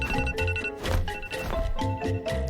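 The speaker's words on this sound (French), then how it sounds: "Allez, coupons cette alarme." A phone alarm rings in a repeating, fairly quiet electronic pattern of tonal bursts, looping several times without pause.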